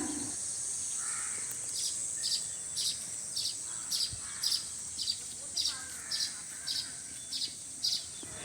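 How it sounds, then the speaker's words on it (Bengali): Morning birds call outdoors in a regular series of short, bright repeated chirps, moderately close, over a steady high insect-like hum and soft background noise. "সকালবেলা পাখির আওয়াজ শুনতে খুবই ভালো লাগে, তাই ভাবলাম তোমাদেরকে একটু শোনাই"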